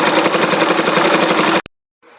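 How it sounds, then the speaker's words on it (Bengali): A sewing machine stitches a dress neckline with a close, loud, rapid whirring buzz and regular needle pulses, then cuts off abruptly near the end. "এখন এই সাইড দিয়ে একইভাবে আমি সেলাই করে নেব।"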